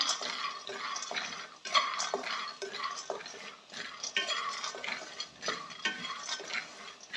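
Raw peanuts dry-roasting in a pan, a dense rattling patter of nuts being stirred and tossed against the metal in continuous rhythmic waves.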